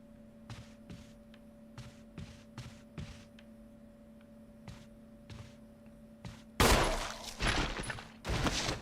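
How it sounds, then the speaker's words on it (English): Gunshots ring out in Resident Evil as a zombie is shot, a few sharp isolated reports over a quiet humming background, followed by a loud burst of heavy noise near the end. "so I'm gonna shoot him"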